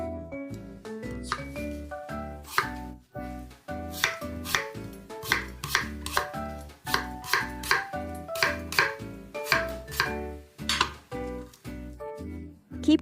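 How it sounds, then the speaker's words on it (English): Knife making shallow diagonal cuts into a daikon radish on a cutting board, a rapid run of crisp, close, evenly spaced chopping taps with brief pauses, heard alone. "when cutting the daikon, tilt your knife diagonally and make sure not to cut all the way through"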